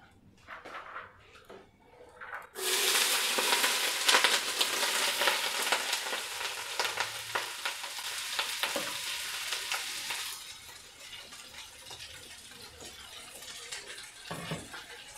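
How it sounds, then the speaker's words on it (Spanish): Sliced corn kernels hit hot oil in a pot with a sudden loud sizzle that stays strong and steady for several seconds, then settles into a softer frying hiss with occasional stirring. "Ya le voy a echar los granos de elote porque la cazuela ya está bien caliente con el aceite."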